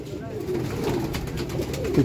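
A rooftop pigeon rises in a close, low, rolling coo over a soft background of other birds, brief and fairly loud.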